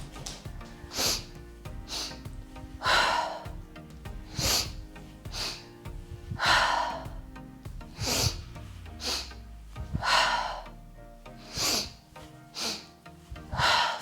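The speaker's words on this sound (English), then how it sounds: "inhale, exhale" Slow, deep breaths drawn in and pushed out during a standing core workout, with a series of breathy bursts repeating at a steady pace throughout, close and moderately loud.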